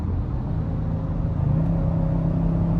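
A high-mileage 2021 Ford F150 with 250,000 km on it accelerates at half throttle on the highway. The engine gives a steady, loud low rumble, and its tone shifts upward partway through as the transmission downshifts to fifth gear.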